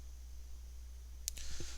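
A single sharp computer mouse click on a quiet desk setup, short and close, followed by faint soft clicks and shuffling over a steady low electrical hum.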